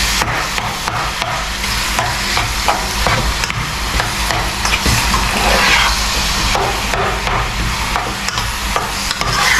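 Pinoy-style spaghetti sauce with ground meat is stirred in a pan, the spoon scraping in steady, repeated strokes over a constant close sizzle. Nobody speaks.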